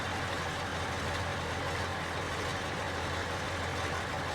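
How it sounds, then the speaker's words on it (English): A tractor engine idles in the Farming Simulator 22 video game, giving a constant low, rumbling drone that holds an even level without revving. "That tractor sounds amazing."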